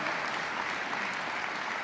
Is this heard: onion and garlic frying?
no